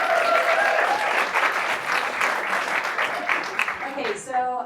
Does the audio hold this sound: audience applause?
yes